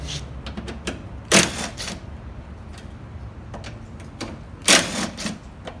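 Ratchet wrench with a 10mm socket clicking as it loosens headlight bolts on a 2001 Mitsubishi Mirage, rapid bursts of close, crisp ticking with a couple of louder clanks of metal in between.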